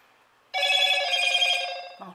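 A new mobile phone rings loudly with a bright, electronic telephone-bell tone that starts suddenly after a quiet moment and holds steady for over a second before a voice briefly cuts in.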